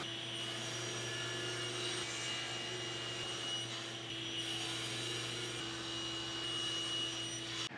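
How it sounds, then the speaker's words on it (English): A table saw ripping a walnut slab into table legs, its blade running with a steady, even whine and rasp throughout, fairly quiet and alone. "I'll rip them out to rough width at the table saw"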